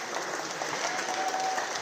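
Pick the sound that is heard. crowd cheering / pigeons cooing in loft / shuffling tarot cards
crowd cheering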